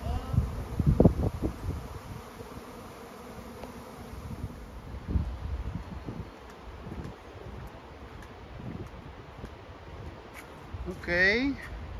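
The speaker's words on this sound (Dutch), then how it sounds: "Nee, het zijn bijen." Swarm of honeybees buzzing around a branch above a garden, a steady diffuse hum that stays in the background while people talk over it throughout.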